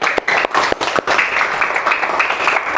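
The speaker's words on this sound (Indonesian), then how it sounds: "Tepuk tangan untuk Maryam." A small class claps for a student after a correct quiz answer. A few sharp, separate claps come first, then they merge into brief, loud, close applause.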